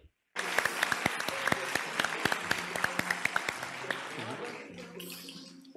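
Sustained, dense applause from an award ceremony audience in Istanbul as laureates and jury members gather on stage, steady and close for several seconds, with a few voices rising faintly underneath as it begins to ease off.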